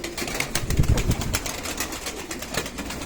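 Pigeons in a loft give low, soft cooing calls, with some rustling and faint movement around them, in steady close background sound with no talking.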